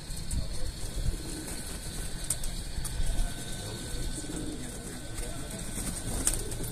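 Pigeons coo and stir after being let out of their loft, mixed with mechanical clicking and ratcheting. The busy, steady background of bird sounds runs throughout, with faint voices in the mix.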